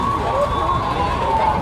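An ambulance siren sounds steadily through a continuous wash of noise during an emergency drill at a busy market, with no clear talk.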